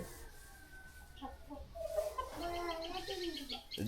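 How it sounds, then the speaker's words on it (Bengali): Poultry hens kept as backyard chickens cluck and chirp in quick, quiet bursts while pecking at radish, the calls growing busier toward the end, with a voice faintly audible nearby. "পোলট্রি মুরগি দেশি মুরগি হয়ে গেছে এখন মূলা খাইতেছে"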